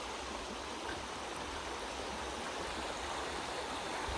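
The Sutlej river flows past a Punjab village at dusk, a steady, even rushing wash of water heard from nearby with no voices.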